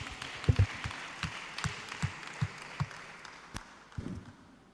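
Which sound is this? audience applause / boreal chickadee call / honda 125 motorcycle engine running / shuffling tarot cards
audience applause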